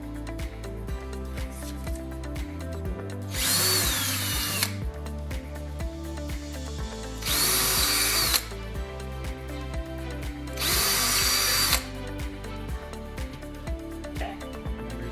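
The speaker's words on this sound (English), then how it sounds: "get a drill bit equivalent to that and drill the 3 holes when marked" A power drill whirs steadily, rising into three loud, harsh bursts as it bores three marked holes for wall anchors, with gaps of lower whirring between them.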